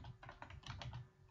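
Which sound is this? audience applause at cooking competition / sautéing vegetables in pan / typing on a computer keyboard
typing on a computer keyboard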